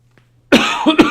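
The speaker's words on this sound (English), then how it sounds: "I'm coughing more tonight." A single person gives a sharp, close cough followed by two quicker rasping coughs, all within about half a second, after near silence.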